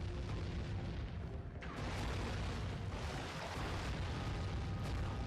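Cannons blowing up on a pirate ship in the Sly 3 video game: a dense, continuous roar of booming explosions and rumbling blasts, loud and close, without speech.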